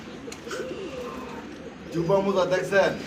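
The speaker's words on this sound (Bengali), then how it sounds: "এটা হচ্ছে মাদি কবুতর আর এইটা হচ্ছে নর" A pair of pigeons coos nearby, a male and an egg-laying female, at a pigeon sale. Soft, low coos are mixed with people talking, and the sound swells louder near the end.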